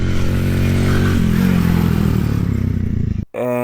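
A Shineray Spring X 50cc cub-style motorcycle engine revs up close, buzzing and clattering at steady then rising pitch before cutting off abruptly near the end.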